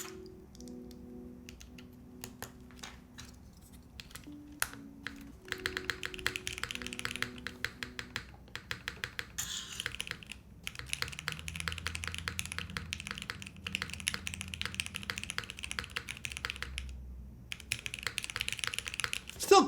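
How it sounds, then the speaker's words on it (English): Rapid clicky typing on a plateless, PCB-mounted leaf-spring 60% mechanical keyboard with hot-swap switches, including spacebar presses on a different switch; dense, close, steady keystrokes with no talking. "let's just grab something else and try the spacebar with a different switch just to show you guys"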